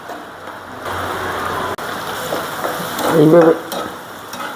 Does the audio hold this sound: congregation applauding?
no